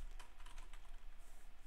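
Rapid, close computer-keyboard typing as a file path is entered for an HTML link, a quick run of soft clicks over a low steady hum, with no talking.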